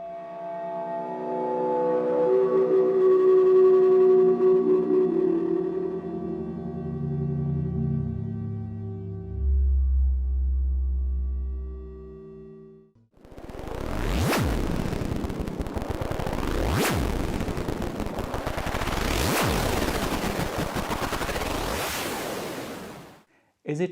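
A Multiphonics CV-2 synthesizer module plays a demo: drifting, wavering tones that sink into a deep low rumble, then a bright noisy texture pulsing with evenly spaced sweeps, loud and with no voices.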